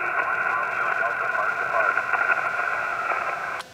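Amateur radio receiver noise with a weak park-to-park voice signal buried in steady hiss and static, continuous and even, cutting off abruptly at the end.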